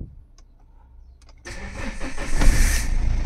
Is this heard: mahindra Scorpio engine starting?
yes